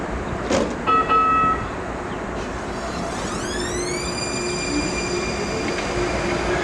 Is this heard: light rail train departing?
yes